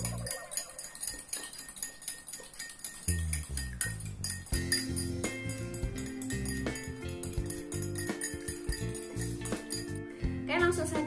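A spoon stirs plain mineral water in a glass with steady, rapid clinking against the sides, close and fairly quiet, under a soft speaking voice.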